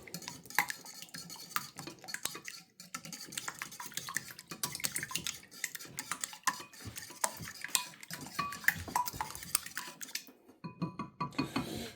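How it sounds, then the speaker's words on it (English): Eggs are beaten in a bowl for Chinese wheat noodles, with a utensil scraping and clinking against the bowl in quick, irregular strokes. The sound is close and fairly quiet and stops near the end. "Then I'm going to beat my eggs."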